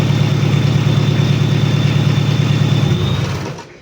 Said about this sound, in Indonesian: Ada suara bearing kering, jadi ini kita matikan dulu.